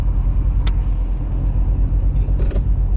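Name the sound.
Corvette C7 Z06 with 8-speed automatic driving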